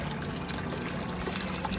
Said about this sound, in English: So we're pumping the water out